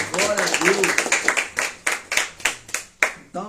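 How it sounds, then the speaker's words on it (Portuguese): A church congregation claps during a sermon, starting with mixed voices and scattered hands, then settling into a sparse run of distinct individual claps that trail off. "Essa palavra merece uma salva de palmas."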